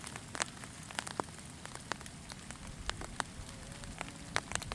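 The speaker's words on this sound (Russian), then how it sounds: "дождик." Light rain falls outdoors around a camera sheltered under an umbrella, a steady soft hiss broken by scattered sharp drop ticks, quiet and continuous with no talking.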